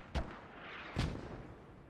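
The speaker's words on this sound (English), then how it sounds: "mortar drops in next to their fucking house" Two heavy mortar blasts in a multiplayer war video game match, each a sharp thump with a short rumbling tail, spaced under a second apart over steady background noise.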